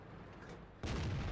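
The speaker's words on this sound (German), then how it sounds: "Ja, der T54 jetzt schießt er" Tank cannon shot from a T54E1 in World of Tanks, a single heavy boom cutting in abruptly over a steady low engine rumble, close and loud.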